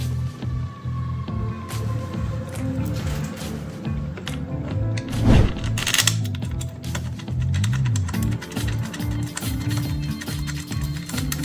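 Washers and lock washers being fitted onto bolts through a plate, heard as a run of small, close metallic clicks and taps with one louder clank near the middle, and no voices.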